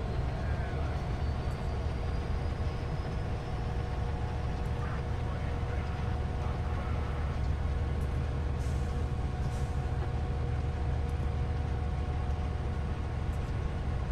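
Southern Pacific SD70M diesel locomotive in Train Simulator 2015 on Donner Pass, a steady low engine drone with rumbling rail noise held at even loudness throughout, a few faint higher squeals riding over it.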